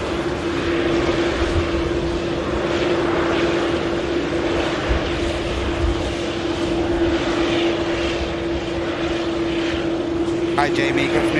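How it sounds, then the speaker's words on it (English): An Airbus A350 airliner taxis out at Manchester Airport, a steady loud engine roar with a constant drone running throughout, close and unbroken. "just missed this aircraft due to a 350 making its way out"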